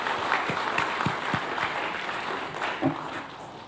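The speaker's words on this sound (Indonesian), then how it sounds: "Boleh tepuk tangan?" A seated audience gives steady, moderately loud applause at a doctoral promotion ceremony in philosophy, a continuous wash of clapping hands with a few sharper claps standing out near the front.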